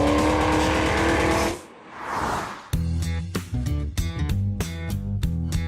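A powerful supercharged 636hp V8 in an HSV GTSR W1 muscle car rumbles and revs loudly, with a brief dip before sharp, punchy throttle blips and crackling bursts follow in quick succession.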